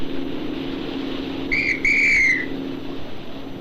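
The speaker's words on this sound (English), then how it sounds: "He signals to me with a whistle." A tugboat pilot signals from a ship's bridge in a harbor with a clear whistle, one short blast then a longer one, bright and fairly near above a steady low engine hum.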